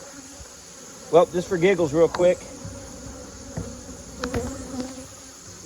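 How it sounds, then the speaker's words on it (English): Dense honeybee buzzing around an open hive during an inspection, a steady close hum that swells with a few louder passing bees, while someone talks over it briefly. "There's definitely a lot of bees"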